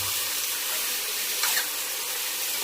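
Tomato pieces sizzle and hiss steadily in a hot frying pan, with a continuous bright spattering texture and no talking.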